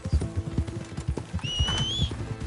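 Rapid hoof clip-clops from a horse trotting close by in Red Dead Redemption 2, with a brief high whistle-like tone partway through.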